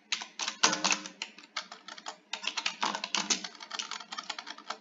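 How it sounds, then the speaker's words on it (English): Rapid, continuous typing on a computer keyboard in a custom video game map, with dense clattering keystrokes in quick irregular bursts, close and fairly loud, with no talk over it. "It's harder to type on these keyboards."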